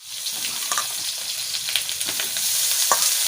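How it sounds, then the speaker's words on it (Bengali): Eggplant pieces sizzle steadily in a hot pan with a bright, continuous crackle, broken by occasional scraping stirs, close and alone without any voices. "একটু ভাজতে থাকবো, বেশি ভাজবো না, বেশি ভাজলে আবার পুরো মিশে যাবে"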